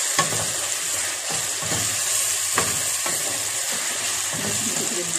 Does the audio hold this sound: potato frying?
yes